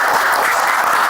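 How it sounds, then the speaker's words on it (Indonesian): Loud, dense audience applause in a talk-show studio, a continuous wash of many hands clapping close up with no pauses through the short moment. "Tepuk tangan dulu."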